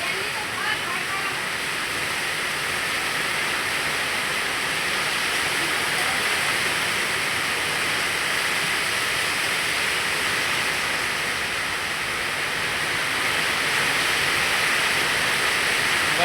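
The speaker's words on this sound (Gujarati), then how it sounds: "જોરદાર વરસાદ પડી ગયો છે અમારા ગામમાં" Heavy rain pours down in a village as a loud, dense, unbroken wash that holds steady for the whole stretch, with a voice talking over it.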